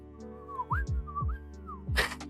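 A person whistles, imitating a police whistle. Short, pitched trills are broken by puffs of breath, ending in a louder burst. The whistling is close and clear, with no speech.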